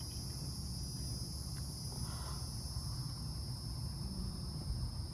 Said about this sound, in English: I hear the cicadas.